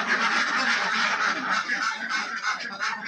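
Khaki Campbell ducks on a confined duck farm, a dense, continuous chorus of overlapping quacks from many birds close by, rising and falling in waves.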